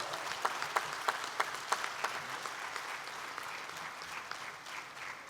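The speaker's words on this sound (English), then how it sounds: "please join me in applauding Mr. Nadir Godrej, the recipient of the Indore Management Association Lifetime Achievement Award" An audience applauds Nadir Godrej as he receives the Indore Management Association Lifetime Achievement Award at a management conclave: steady, dense clapping from a hall crowd, with sharper individual claps standing out early on and the applause slowly thinning.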